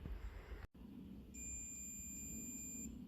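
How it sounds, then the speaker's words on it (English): A multimeter sounds a continuity-test beep while checking a switch on a 1957 Ferguson 35 TVO tractor. The steady high electronic tone holds for about a second and a half in a quiet room. "That's the continuity test"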